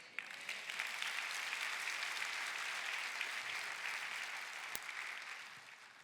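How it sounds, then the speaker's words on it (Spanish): A church congregation applauds during a Palm Sunday sermon, a steady, moderately distant wash of clapping that fills about six seconds and tapers slightly at the end. "Dale un aplauso."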